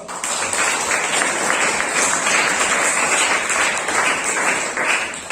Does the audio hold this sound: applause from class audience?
yes